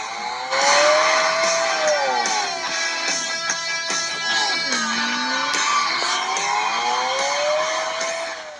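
A yellow Lamborghini engine in the game PUBG roars and revs in shifting waves, pitch rising and dropping with gear changes, loud and steady throughout.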